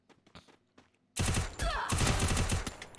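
Rapid automatic gunfire in the Free Fire video game, a dense loud burst of shots starting abruptly after a few quiet clicks and continuing steadily to the end.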